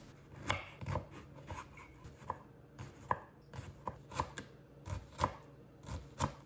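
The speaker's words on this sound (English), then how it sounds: "I added the bread to a bowl, sliced an onion, as well as a leek." A knife slices an onion and a leek on a cutting board in steady, crisp chops about twice a second. The cuts sound close and fairly quiet, with no voices.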